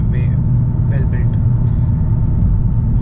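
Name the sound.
Nissan Kicks 2020 engine running at 4000 RPM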